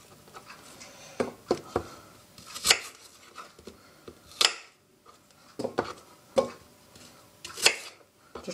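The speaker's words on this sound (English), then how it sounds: "I'm cutting this too finely" A knife chops fruit for a fruit salad on a cutting board, with a series of sharp, irregular taps close up, some single and some in quick pairs, separated by short pauses.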